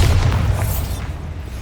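A Bombarda spell explosion from Hogwarts Legacy erupts as a loud, deep, rumbling boom that fills the whole moment and fades slowly.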